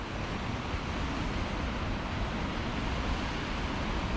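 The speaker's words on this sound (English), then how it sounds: "Sometimes the waves roar so loud when they come in." Loud, continuous roar of ocean surf crashing on the Scottish coast, a dense rushing wash with wind buffeting the microphone and no voices.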